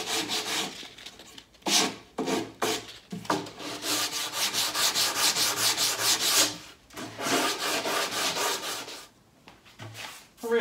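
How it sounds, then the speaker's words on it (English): Hand sanding of a wooden sideboard to remove glued veneer, with repeated rough rubbing strokes in bursts separated by short pauses, close and fairly loud. "So just a little bit of sanding like this,"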